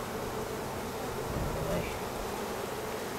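Honey bees drone steadily at the entrance of a hive being boosted with syrup and pollen, a dense, continuous buzz close by with no talk.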